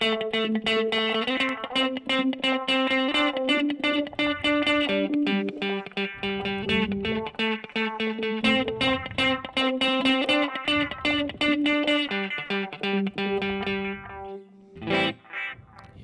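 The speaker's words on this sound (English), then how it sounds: "it really gives very cool trails which are modulated by the filter" Guitar notes through a Line 6 Helix echo effect ring with a swirling echo, repeats trailing off with a sweeping, wah-like filter modulation; dense and continuous, ending in a few fading stabs.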